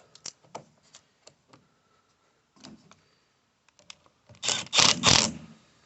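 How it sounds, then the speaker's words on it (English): Bolts on a VW Polo car battery clamp being tightened with a hand tool: sparse sharp clicks and ratchet-like ticks, then a louder burst of rapid metallic clicking near the end, close up with no talking. "The battery's in place, so we're just going to tighten those up."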